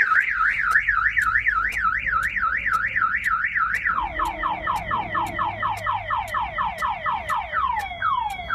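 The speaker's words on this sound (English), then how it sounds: "the alarm was triggered by shock sensor" A Jeep Wrangler's alarm, triggered by its shock sensor when the glass is banged, wails loudly in a fast warbling tone, then switches to a rapid series of descending chirps, sounding continuously and close by.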